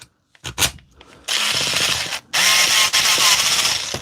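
A screwdriver works screws on a Dewalt battery during repair, giving short ratcheting clicks, then two sustained buzzing motor bursts with a brief pause between them, close and fairly loud.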